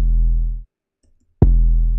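Dry 808 bass notes without a saturation plugin, two loud sustained low booms separated by a short gap of silence, each with strong low harmonics.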